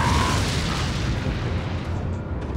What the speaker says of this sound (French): Petit grenade incendiaire.